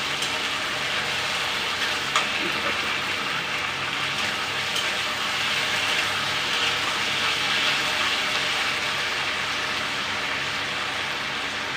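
Potatoes fry in a kadai before the salt goes in, giving off a steady, even sizzle and hiss that runs close and unbroken the whole time.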